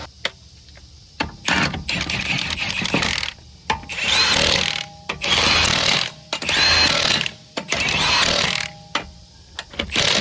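Lug nuts on a Buick are run down during a CV axle job, several loud bursts of power-tool whirring and rattling up close, separated by short quiet gaps and clanks.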